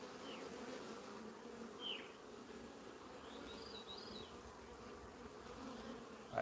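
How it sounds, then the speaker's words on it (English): Honeybees buzz around their hive in a continuous, fairly quiet hum. A few individual bees pass close by with brief rising whines. "my bees, are they about to swarm?"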